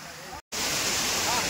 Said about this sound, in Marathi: खूप वरनं, डोंगराच्या वरनं पाणी येतंय मित्रांनो खाली.